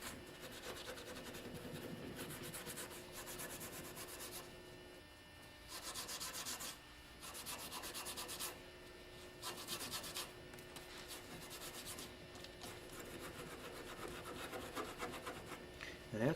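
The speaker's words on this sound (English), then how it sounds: "Final cleaning with a Scotch-Brite pad." A Scotch-Brite pad scrubbing stripped wood after paint stripper, rapid back-and-forth rasping strokes in repeated bursts with short pauses between, close and fairly quiet, with no talking.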